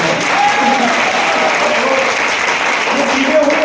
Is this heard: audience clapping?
yes